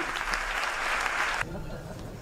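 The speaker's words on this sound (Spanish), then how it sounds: "Fuerte aplauso para la mejor deportista alevín femenina, Olaya Casanova Martín" A theater audience at a sports awards gala applauds a young female athlete, brisk clapping for over a second before it abruptly cuts off into a low room hum.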